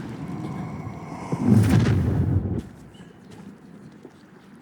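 The Incendio fire spell cast in Hogwarts Legacy, a rumbling, whooshing burst of flame swelling midway, then fading into low game ambience.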